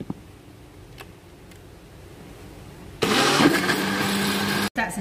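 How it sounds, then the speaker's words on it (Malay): Kitchen blender grinding boiled sweet potato into batter, switching on abruptly after quiet ticking and running loud and steady for a couple of seconds before a brief cut-out and restart. "Kemudian kita akan kisar semua bahan-bahan ni ya."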